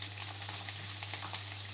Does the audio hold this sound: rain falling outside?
no